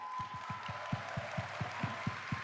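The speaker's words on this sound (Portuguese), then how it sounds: "Palmas." An audience at a Gamescom event in Cologne claps in unison, about a dozen steady rhythmic claps roughly four per second, evenly spaced over a faint background hum.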